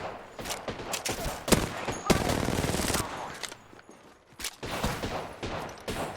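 Bursts of gunfire in Apex Legends, loud rapid shots in clusters with short pauses and a quieter stretch midway, layered over busy game noise.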